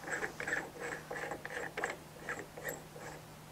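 Short metallic clicks and ratcheting bursts come from an adapter being fitted onto an 819 nipple chuck machine with a 1-inch insert while the machine is switched off. About eight quick, close clusters are heard, with a low steady hum beneath.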